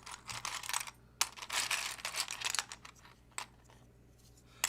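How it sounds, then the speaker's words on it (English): Clacky switches on a Matrix Navi mechanical keyboard are typed on in quick, uneven bursts of sharp close-up clacks, with short pauses between keystroke runs. "It is a clacky switch."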